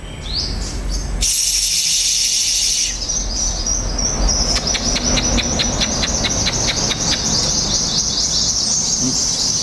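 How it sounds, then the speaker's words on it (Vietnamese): A sunbird sings vigorously in bright, rapid chirps and a fast trilling series, with other birds and insects buzzing steadily in the outdoor background. "chim nó chém quá trời"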